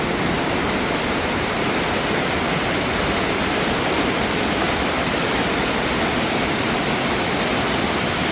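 Creek water rushes loudly below a bridge in Alaska, a dense, unbroken roar of whitewater that stays constant and close throughout, with no voices.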